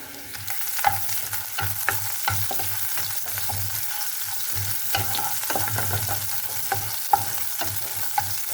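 Onion, dried chili, garlic and bay leaf fry in oil as a tempering for dal, a continuous crackling sizzle broken by regular scraping strokes of a spatula, close and with no talking.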